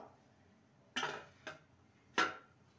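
A cake bowl set down inside a pot on a preheated griddle, then covered with a lid: three quick metallic clanks, two close together and a sharper one just after, in a quiet kitchen.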